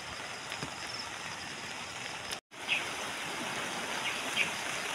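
Strong floodwater rushes past rice paddies after Typhoon Bebinca as a continuous, broad roar of flowing water, steady and fairly loud, with one brief dropout partway through.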